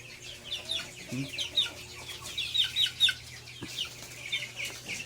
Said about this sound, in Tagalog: Puro manok yan guys.